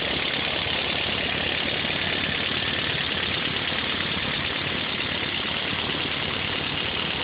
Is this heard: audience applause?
no